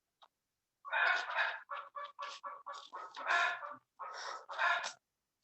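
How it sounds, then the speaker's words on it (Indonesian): Chickens cluck close by in a quick run of short, separate calls, loud and clear against otherwise silent surroundings, with no talking. "karena suara ayam banyak kali"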